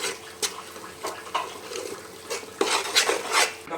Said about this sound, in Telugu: వేసి బాగా మంచిగా కలుపుకోవాలి